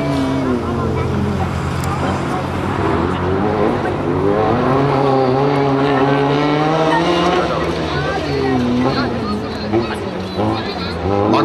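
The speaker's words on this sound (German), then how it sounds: "Markus Buschmann fährt hier mit der Startnummer 75" A rally car drives a special stage of a town rally, engine loud and close with rising and falling revs across the run, while a commentator talks over it.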